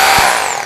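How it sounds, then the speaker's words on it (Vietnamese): A DeWalt D25033K hammer drill running, a loud, close, continuous high-pitched motor whine in one short burst with no speech. "mình sẽ chạy thử máy cho chúng ta xem"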